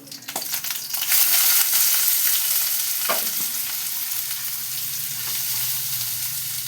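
Soaked whole masoor lentils hit hot oil with a loud, bursting sizzle that settles into a steady, close frying hiss, with a few stirring scrapes and no talking.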